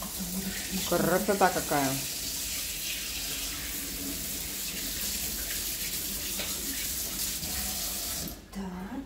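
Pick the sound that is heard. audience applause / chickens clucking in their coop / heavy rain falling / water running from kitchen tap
water running from kitchen tap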